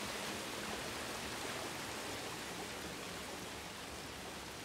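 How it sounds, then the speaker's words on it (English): Steady, dense rain in Star Wars Jedi: Fallen Order, a constant close hiss of falling water with no breaks or voices. "A little nice little rain show going on."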